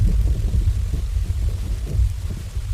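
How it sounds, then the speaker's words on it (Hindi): Low rolling thunder rumbles continuously beneath a wash of steady heavy rain, loud and close throughout. "बारिश की बूंदें अब और भी तेज हो गई हैं। तूफान की रफ्तार भी काफी बढ़ गई है।"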